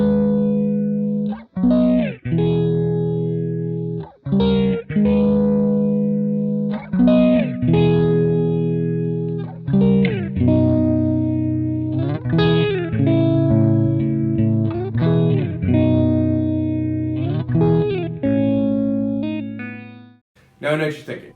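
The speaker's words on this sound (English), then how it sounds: "Now I'll show you guys what it sounds like with just the mono guitar" A mono electric guitar plays through a Yamaha THR10C II amp, with distorted chords and single-note phrases carrying a chorus-like shimmer and some reverb, close and continuous for about twenty seconds.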